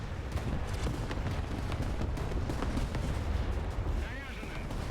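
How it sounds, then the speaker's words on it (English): Artillery shells land in a tank combat video game, a dense, continuous rumble of booming impacts and gunfire at loud level, with a voice talking over the barrage. "I'll go ahead and drop the artillery on the other side of the Bravo point"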